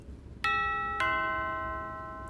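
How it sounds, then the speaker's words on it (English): A two-tone doorbell chime plays through the audio output of a Horner XL7 all-in-one controller: two clear bell strikes about half a second apart, the second ringing out and fading slowly, with no talking. "when I hit this doorbell button, we should hear something, hopefully a doorbell"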